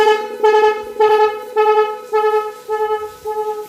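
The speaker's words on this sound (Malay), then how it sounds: "itu horn dia, kita guna 6 channel horn" A 6-channel horn on a modified Honda Vario 150 scooter blares loud and close in six quick melodic bursts, each a bright multi-tone chord.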